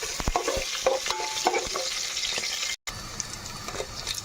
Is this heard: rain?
no